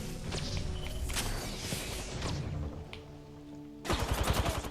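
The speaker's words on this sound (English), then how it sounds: "I'm spotted, taking fire." Apex Legends gunfire rattles in rapid bursts of shots among shuffling game noise, fairly loud and close, with a heavier run of shots at the end.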